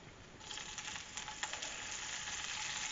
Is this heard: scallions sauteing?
yes